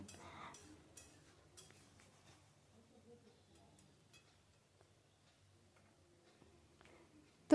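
Bottle gourd and shrimp curry being stirred in a pan makes soft, irregular scraping and clinking of a utensil against the pan, faint and steady, while someone talks over it.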